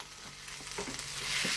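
A stir fry crackles and hisses in a hot pan, a dense close sizzle that swells slightly toward the end, with faint stirring clicks and no talk.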